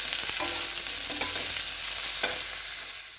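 Jackfruit curry being stirred in a pan, a vegetarian dish made for a festival meal: steady close sizzling with a few sharp scrapes and clinks of the spoon against the pan, no voices.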